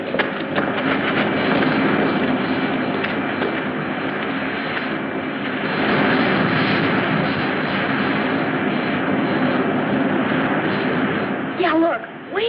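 Spaceship landing engine from the 1956 sci-fi serial Rocky Jones, Space Ranger: a loud, steady roaring rumble that fills the whole stretch, with a voice speaking beneath it.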